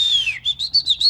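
A person vocally imitates a mockingbird call: a high whistle that slides downward, then a quick series of about five short, even chirps, near and clear with no other sound.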